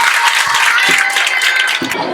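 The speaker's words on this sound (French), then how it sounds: "Pronom personnel, applaudissez" Crowd applause fills a school cultural celebration in Sinthian, a steady dense wash of clapping with voices mixed in throughout.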